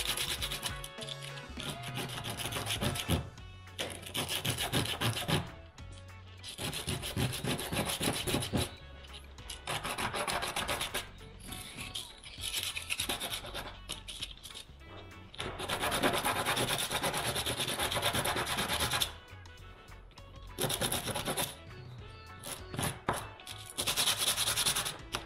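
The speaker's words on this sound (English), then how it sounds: "we'll give the edges of this a bit of sand down" Continuous rasping of sandpaper on the edges of a scrap wood piece cut with a hole saw, steady and close, in long scrubbing passes broken by a few brief pauses; no talking.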